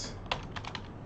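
Several quick keystrokes tap on a computer keyboard as a folder name is typed, a short close run of light clicks over a faint steady room hum.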